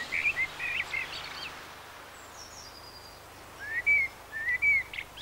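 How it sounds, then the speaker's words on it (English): Thrush song in the open, clear whistled phrases at the start and again near the end with a quiet pause between, moderately close over a faint low background hum. "And a thrush comes out for the snail."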